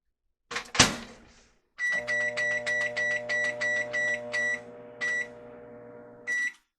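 A door clunk, then a microwave with a kabocha squash inside running with a hum while it beeps in a steady series of short tones, and a final beep at the end.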